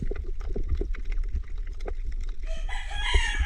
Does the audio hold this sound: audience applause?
no